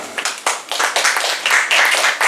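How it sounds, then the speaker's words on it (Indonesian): Dense applause from a church community gathering welcoming new regional leaders, with steady rapid clapping from many hands close by, rising and falling in short waves. "Mari kita tepuk tangan untuk mereka."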